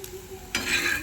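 Tomatoes and coriander are mixed in a pan with the gas turned off, a brief soft scrape then a louder stirring rustle and faint crackle, close up and without talk.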